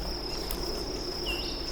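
Crickets chirp in a continuous high, steady trill on a frosty night in a forest, with a second cricket joining briefly near the end over a soft, even background hiss.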